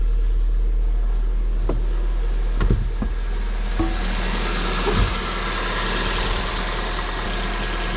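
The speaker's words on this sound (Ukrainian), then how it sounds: "Двигун працює відмінно." A Chevrolet Corsa car engine with 28,000 km on it idles steadily with a low, continuous rumble, broken by a few soft clicks and knocks; no voices.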